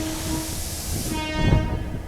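A Hassan–Bengaluru MEMU express train idles close by at a platform with a steady mechanical hum and hiss, then a rising electric whine and a low rumble.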